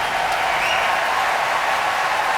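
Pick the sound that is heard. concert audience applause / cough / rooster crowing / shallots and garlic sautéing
concert audience applause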